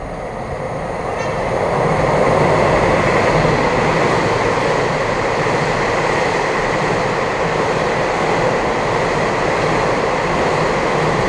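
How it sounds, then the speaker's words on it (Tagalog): A high-speed train rushes through a station in Taiwan without stopping, a loud, sustained roaring whoosh building over the first couple of seconds and holding steady close by. "Ayan na yung train."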